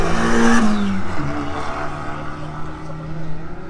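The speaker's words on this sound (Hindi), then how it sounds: "देखा ब्रियो का आवाज आया रहेगा शायद उसके अंदर टर्बो था।" A Honda Brio's engine revs and roars close by at a car and bike event in India, a rising whine dropping into a steady rumble, with a noisy outdoor crowd around it.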